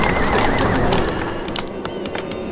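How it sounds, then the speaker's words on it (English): Horses neigh in the Warcraft 3 video game, a loud wavering whinny with descending pitch followed by softer clip-clop-like clicks and a sharp sound at the end. "The horses are under attack."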